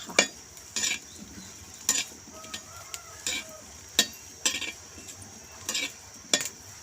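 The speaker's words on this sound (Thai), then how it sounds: "แล้วก็มาคั่วมะเขือ มะเขือเกลือแล้วก็หอมแดงกันต่อนะคะ" Eggplants, salt and shallots are dry-roasted in a pan for a fermented fish dipping sauce. A spatula scrapes and stirs in regular strokes, with faint sizzling between the scrapes and no talking.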